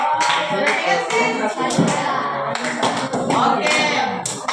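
A classroom of pupils clapping their hands in short irregular bursts, sharp claps arriving in quick clusters with voices mixed in between.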